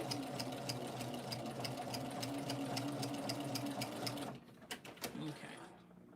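Sewing machine stitching binding onto a quilt, a steady rapid mechanical chatter for several seconds, close, then stopping and followed by a few handling clicks.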